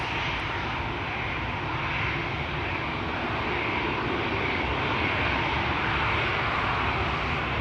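A Transavia airliner passes at Schiphol Airport, its broad, steady engine roar filling the air evenly from start to finish without fading, and no voices are heard.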